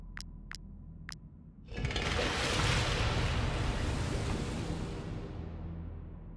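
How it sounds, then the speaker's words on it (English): Water rushes into a stone tomb in the video game WarTales after a lever is pulled, a broad steady surge that swells in suddenly and stays loud for several seconds, preceded by three faint ticks. "Activate the lever. I guess it will fill it up with water."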